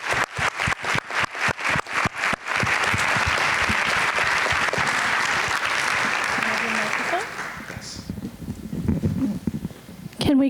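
Audience applause after a film panel discussion, opening with a few sharp separate claps that swell into sustained loud clapping, then fading out toward the end with some talk and murmuring.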